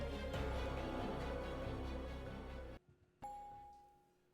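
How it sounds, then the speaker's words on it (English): Music plays and then cuts off abruptly, followed by a single soft, clear elevator chime in Tsukihime that rings out and fades slowly. "A gentle chime of the elevator shatters the silence"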